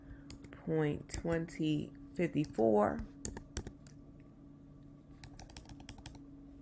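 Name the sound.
typing numbers on a computer keyboard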